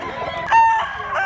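A rooster crows once, close and loud, a short strained call at a farmyard in Mantalungon, Cebu, with background clucking underneath.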